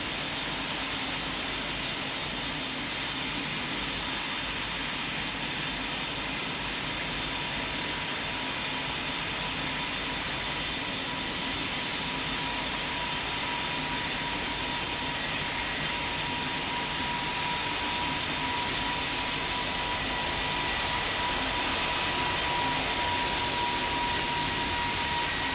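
An airliner lands on the runway in the Roblox flight simulator Pilot Training Flight Simulator, heard as a steady, broad jet-engine roar and rushing hiss that holds evenly for the whole stretch, with a faint thin tone running through it.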